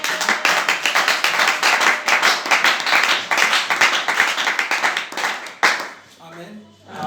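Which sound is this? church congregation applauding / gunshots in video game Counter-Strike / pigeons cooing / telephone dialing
church congregation applauding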